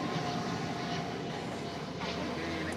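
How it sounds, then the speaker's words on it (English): A plane passing on the runway at DFW airport, a steady broad jet roar filling the whole stretch at moderate distance with no clear rise or fade. "Los aviones están pasando más o menos"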